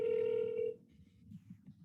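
A telephone ring tone on an outgoing sales call, one steady ring lasting under a second, then faint background hum while the line waits.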